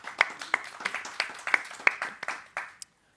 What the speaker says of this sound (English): So a big round of applause for Chez